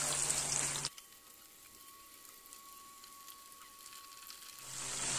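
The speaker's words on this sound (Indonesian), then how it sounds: "Kita goreng kejap je." Giant freshwater prawns frying in a pan, a steady close hiss that quiets for a few seconds with a faint tone, then swells back up loud at the end.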